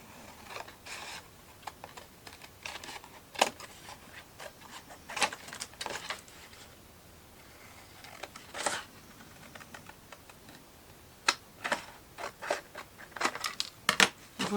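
Paper card is cut with scissors to shape an envelope, a scattered series of soft, close snips and rustles with quiet gaps between, alone.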